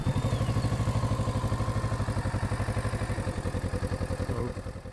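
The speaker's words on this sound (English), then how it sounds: "press this button and you'll hear the bike turn on" A motorcycle engine running after the starter button is pressed, a steady fast chugging idle close by that stays even and loud, then eases off slightly in the last moment.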